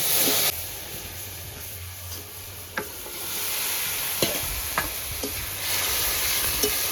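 Banana-flower curry (bichi kola) being stirred and mixed with fried garlic in a pan, with a soft steady sizzle and a few light scraping clicks of the spoon against the pan.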